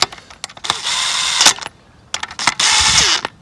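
Ratchet tightening the cylinder head bolts on a Mk6 Golf GTI, snugging them down in short bursts of rapid clicking with brief pauses and a few metallic knocks between, close by and fairly loud.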